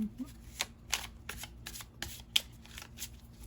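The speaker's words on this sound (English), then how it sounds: "I've already shuffled these" Tarot cards being shuffled up close in quick, crisp riffling bursts, with soft taps and pauses between them in a quiet room.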